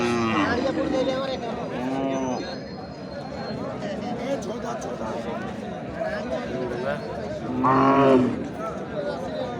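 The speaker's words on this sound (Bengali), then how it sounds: "আমরা একটু আগে গরুটা দেখাই আপনার" Cross and local breed cattle at a livestock market. Two loud, drawn-out moos rise over steady crowd chatter, with people talking close by throughout.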